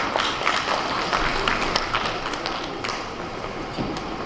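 An audience applauds at an inaugural session, a dense, even patter of many hands clapping at steady moderate loudness throughout, with no clear voices over it.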